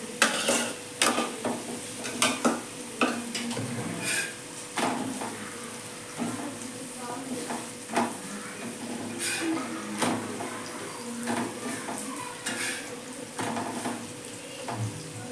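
Egg curry cooks in a pan with a soft simmering sizzle, broken by repeated clinks and scrapes of a spoon stirring at an uneven pace, with no talk.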